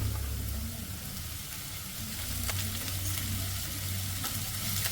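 Sliced onion and cabbage are stir-fried in a pan, making a steady, moderately loud sizzle with a low hum beneath and scattered scraping stir sounds, alone without talk.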